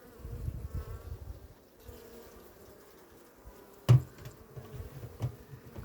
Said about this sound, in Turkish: Arılar kıpır kıpır hareketli.